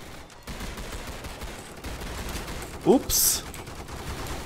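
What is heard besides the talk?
gunfire shooting zombies in Roblox Zombie Stories video game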